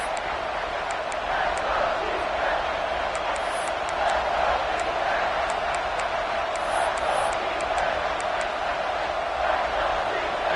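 A roaring stadium crowd in the College Football 26 video game fills the whole stretch with a steady, dense wall of cheering noise and no letup.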